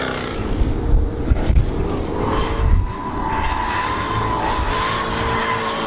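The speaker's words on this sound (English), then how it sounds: "So that's the F-Type on the road" A 2013 Jaguar F-Type sports car drives on the road, its engine a loud, close, continuous rumble with bursts of revving and a rising, sustained note, and no voices.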